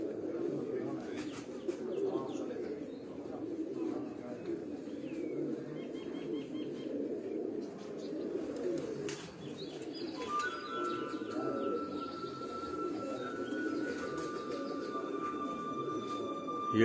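Pigeons coo continuously nearby on a rooftop in a low, throaty murmur, with a few light chirps and thin whistling tones drifting in over time.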